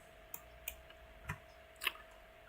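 Sharp, faint computer mouse clicks at a desk, four isolated taps spaced irregularly over a quiet background with a steady low hum.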